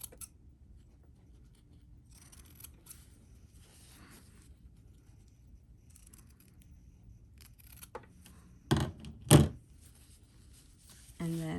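Scissors trimming the fabric sides of a welt pocket make a few quiet snips and rustles, followed by two sharper, louder cuts near the end.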